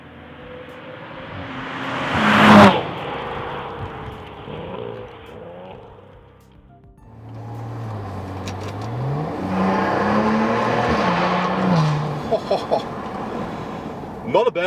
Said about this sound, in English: Not a bad sounding engine, this V6 here, I have to say.